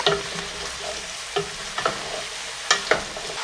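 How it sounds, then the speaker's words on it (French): Vegetables for Cretan ratatouille stirred in a pot with olive oil, a close, lively sizzle broken by several sharp scraping knocks of the spoon against the pot, with no talking. "Et je mélange."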